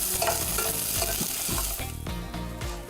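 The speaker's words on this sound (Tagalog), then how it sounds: "Gigisa muna ang bawang at sibuyas." Garlic and onion sautéing in a pan for a beef stew: a loud, near sizzle broken by repeated stirring scrapes in uneven strokes, with a tonal musical bed underneath and nobody speaking.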